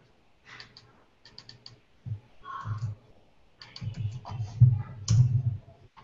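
A computer keyboard being typed on in short irregular bursts of clicks, close to the microphone, with some louder thumps mixed in and faint low sounds between bursts; no talking.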